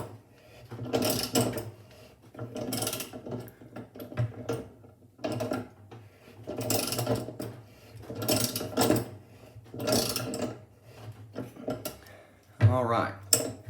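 Metallic scraping, clanking and ratcheting as a puller draws the drive hub and stuck inner tub of a Kenmore Series 80 top-load washing machine off its shaft, in repeated rhythmic bursts over a steady low hum.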